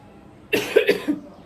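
A woman with an itchy throat gives a short run of three or four close, dry coughs in a quiet indoor room.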